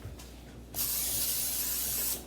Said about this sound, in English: I have a cookie sheet that I'm going to spray.